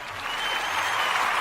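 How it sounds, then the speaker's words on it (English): A small audience applauds a sports show guest, a steady wash of clapping at moderate distance, brief and unbroken, with no talking. "Round of applause."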